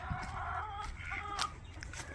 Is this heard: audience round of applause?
no